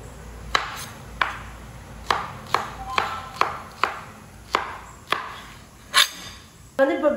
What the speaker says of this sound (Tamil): அருமாமனையை விட இந்த மாதிரி கத்தியில் இருக்கிறது தான் நல்லா ஈஸியாகவும் இருக்குது, ஜாலியாகவும் இருக்குது. எல்லாத்தையும் டக்கு டக்குன்னு கட் பண்ணிக்கலாம்.